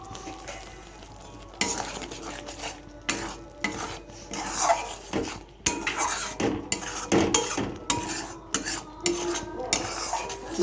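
A utensil stirs biryani masala in a sizzling pot while chicken biryani is being made, giving intermittent loud scrapes and clanks against the metal over a steady frying hiss, with no voices.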